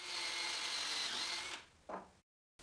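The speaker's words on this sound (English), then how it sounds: "I drill guide holes in the leg" A power drill boring guide holes into a wooden pallet chair leg whirs steadily for about a second and a half, then winds down with a brief squeak before stopping.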